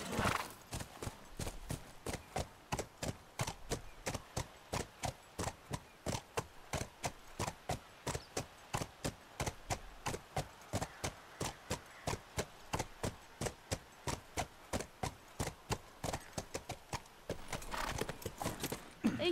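Horse hooves clip-clopping steadily at a brisk, regular gait for the whole stretch during a ride in the video game The Last of Us Part 1, close and prominent with faint background ambience.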